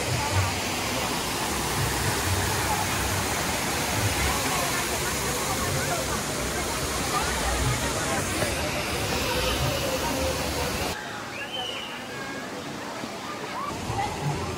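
The steady roar of Jumog waterfall on a crowded school-holiday day: loud, unbroken rushing water that fills the whole stretch, then drops slightly quieter near the end.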